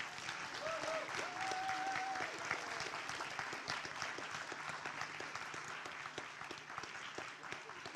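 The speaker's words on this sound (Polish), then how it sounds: "Wielkie brawa dla wszystkich wykonawców." Festival crowd at a Christian music event applauds all the performers in a steady, distant patter of clapping, with faint whistles and voices mixed in early on.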